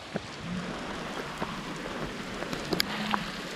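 Steady rain falls at a remote boondocking campsite near a mountain reservoir, a dense even hiss with a few sharper ticks that may be occasional hail, moderately loud and close.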